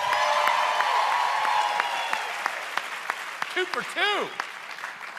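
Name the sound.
audience applause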